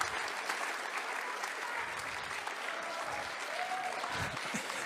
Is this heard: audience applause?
yes